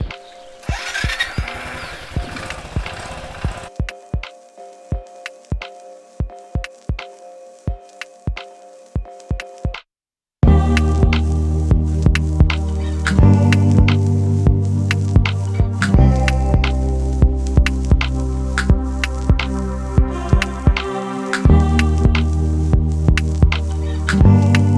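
A loaded motorcycle riding the mountain route from Mustang back toward Pokhara drones with a steady engine hum and rhythmic thumping over rough ground, with a loud, fuller engine roar after a brief break.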